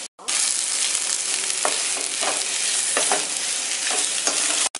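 Tapioca poriyal stir-fries on a slow flame, a steady close sizzle with repeated scraping and stirring strokes from a spatula in the pan, no talk.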